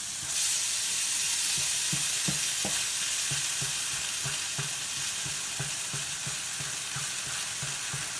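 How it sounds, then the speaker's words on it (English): Milk gravy with sausage sizzling and simmering in a hot pan, a steady close frying hiss with soft regular scraping stirs across it. "Let it boil, kind of let it simmer in like that"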